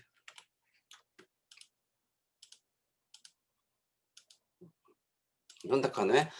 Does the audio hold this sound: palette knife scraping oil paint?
no